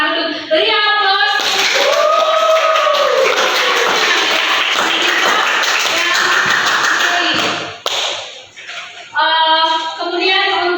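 Classroom applause: a burst of many hands clapping among students, loud and dense for several seconds before fading, with a teacher's voice speaking at the start and end.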